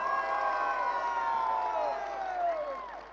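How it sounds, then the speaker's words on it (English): A crowd at a large global event cheers with sustained voices and whoops, a broad continuous roar that fades slightly toward the end, with applause blended underneath. "Big round of applause."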